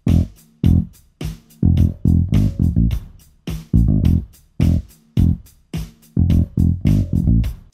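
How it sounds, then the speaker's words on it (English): Bass guitar playing the intro to a song, with its extra couple of notes in short, punchy, staccato plucked bursts separated by brief gaps, loud and close with no talking. "the intro has this extra couple of notes, and it sounds like this."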